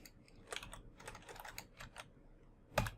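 Commands are typed on a computer keyboard while connecting to a Cisco switch, giving a close, quiet run of irregular key clicks that ends in one firmer keystroke.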